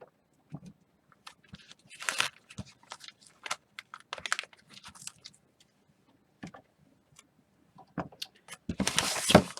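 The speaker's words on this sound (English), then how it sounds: "We're going to go ahead and take our tape off." Tape peeled off an in-the-hoop embroidered wallet project still in the embroidery hoop, with close crackly ripping and tearing in irregular bursts and a louder, longer pull at the end.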